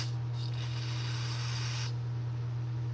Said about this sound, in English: Let's let some more degreaser sit on there. Maybe some carb clean.